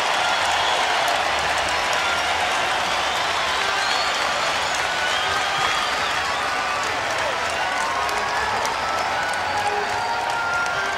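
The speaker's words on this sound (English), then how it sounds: "Listen to the crowd." A basketball crowd at a 1983 Nets versus 76ers game roars and cheers during a Philadelphia timeout, a dense, continuous wash of noise holding steady throughout.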